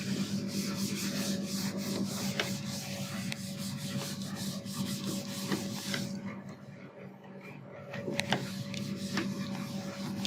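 A board being rubbed clean during an engineering lecture: steady, continuous scrubbing strokes close to the microphone, pausing briefly midway, with no talk heard.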